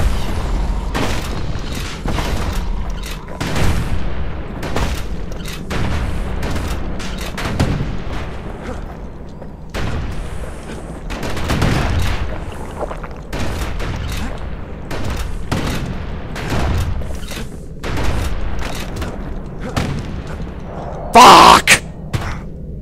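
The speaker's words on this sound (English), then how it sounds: "we just got the slow-mo cannons" Slow-motion cannons fire in the action game Bastion, a steady run of booming shots and mechanical thumps over game music, with one sharp loud burst near the end.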